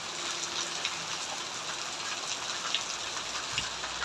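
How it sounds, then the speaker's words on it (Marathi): Heavy rain pours down steadily near a house, a dense continuous hiss and patter of drops on surfaces with no voices. "थोडा पाऊस बघा किती जोरात आला"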